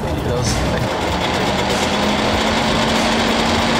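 Wartburg 353W car engine revving lightly, a steady buzzing two-stroke drone held at close range and loud, with people talking over it.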